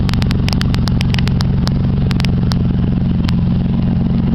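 A 1991 Ford Ranger idles with no muffler and a big hole in the exhaust, giving a steady, loud, raspy rumble broken by sharp ticking clatter.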